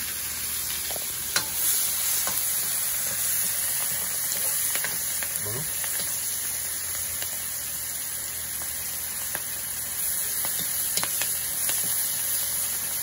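Garlic and onion frying in a pan, a dense, even hiss of sizzling oil with scattered light ticks and clicks from a utensil, steady throughout.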